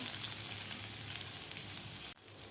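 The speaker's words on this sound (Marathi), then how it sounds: "दोन ते तीन मिनिट आपल्याला हे कांदा भाजून घ्यायचा आहे" Chopped onion fries steadily in an oily pan for a paneer masala, a dense, continuous sizzle with no talk that cuts off abruptly near the end.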